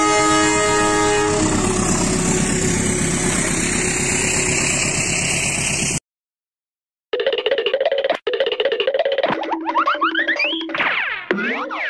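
An Indonesian CC206 locomotive rumbles past and sounds a loud sustained horn. After a sudden cut, a second section brings more horn blasts and rising, bouncy tones.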